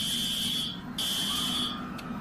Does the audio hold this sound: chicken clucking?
no